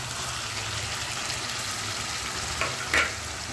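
Cooked-down masala for paneer fries in a pan as a paste of poppy seeds, cashews and melon seeds goes in, making a close, steady sizzle with a brief splash and scrape near the end.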